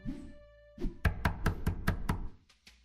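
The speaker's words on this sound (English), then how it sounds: "Knocking continued. Whoever was outside would just keep at it." Knocking on a door in a video game: a low tone first, then a burst of about seven sharp, loud knocks in quick, even rhythm, ending with a couple of fainter taps.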